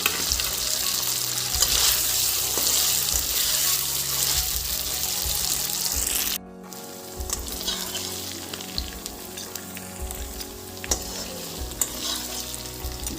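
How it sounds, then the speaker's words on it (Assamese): Cubes of paneer frying in hot oil in a kadai over a medium gas flame give a loud continuous sizzle with stirring clatter. Partway through it drops to quieter crackling, and occasional clinks of the utensil follow. "পনীৰ গুটিকেইটা ভাজি ল'ম।"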